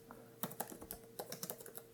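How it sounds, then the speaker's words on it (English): Typing with one hand on a laptop computer keyboard resting on a lap: soft, close, irregular clicks in short bursts with brief pauses between keystrokes. "Typing with one hand"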